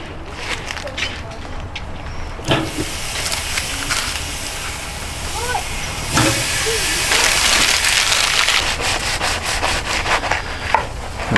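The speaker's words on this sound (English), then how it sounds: "Let's head over to the grill and get these on" Beef steaks hiss and sizzle on a hot grill, a steady broadband crackle with occasional scraping and knocks, a voice talking intermittently over it.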